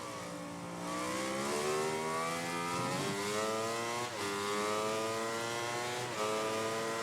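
A Yamaha racing motorcycle engine in the video game MotoGP 19 revs high and steady, peaky, pitch rising and dipping with quick gear shifts, loud and continuous with no talking.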